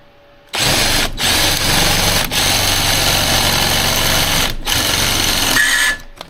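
Power drill cutting a hole through the floor of a 1989 Dodge W100 truck after a pilot hole, a loud, close, high-revving whine that runs in long bursts with brief pauses between them.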